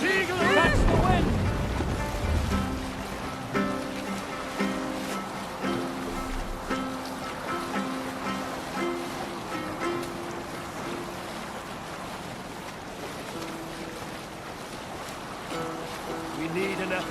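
Wooden Viking sailing ship crossing the ocean in Assassin's Creed Valhalla, with steady wind and rushing waves, a low creaking hull and a shouted voice near the start, then sustained layered tones continuing under the sea noise.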